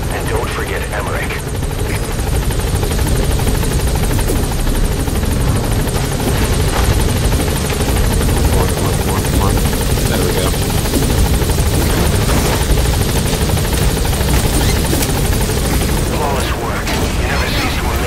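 A loud, constant rotor roar from a helicopter landing in the video game Metal Gear Solid 5 fills the whole stretch, with scattered cracks and bangs mixed in.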